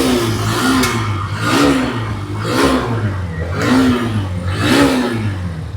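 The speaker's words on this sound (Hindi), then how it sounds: "इसका इंजन का साउंड आप सुन सकते हो" A Hero Xtreme 125R motorcycle engine revs up and down in five even surges, each rising to a roar and falling back, close by with no talking.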